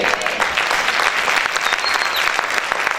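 A church congregation applauds during a Spanish-language sermon, with dense, steady clapping that fills the room at full volume throughout.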